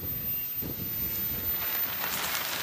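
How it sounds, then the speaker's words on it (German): Wind blows outdoors around a tarp shelter being pitched, a steady broadband rush and low buffeting rumble against the microphone throughout, with no speech. "Ja, scheiß Wind."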